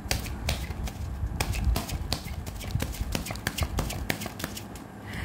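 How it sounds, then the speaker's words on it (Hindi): Tarot cards shuffled by hand close up, a fast run of crisp, papery clicks and flutters that continues steadily with no one speaking. "तो चलिए शफल करते हैं।"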